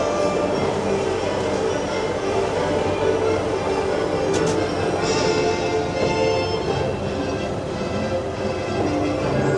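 A roller coaster train rides along its track at Europa Park in winter, a loud steady rumble of wheels on rails heard from the front car, with a few rattles and a brief squeal.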